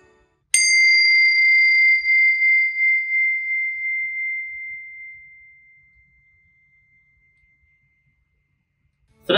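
Tingsha cymbals struck once for purifying a space, a bright clear metallic ding that rings and slowly fades over about seven seconds into silence, alone and fairly loud.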